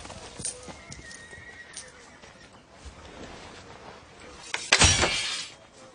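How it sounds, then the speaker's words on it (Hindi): Horses neigh and hooves clip-clop in a medieval village scene, with a sharp crash near the end and faint background ambience. "2 बेहतरीन घोड़े।"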